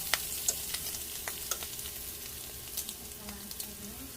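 Bologna frying in grease with flour stirred into the pan gives a steady crackling sizzle with small irregular pops and occasional scraping of a spoon, close and continuous.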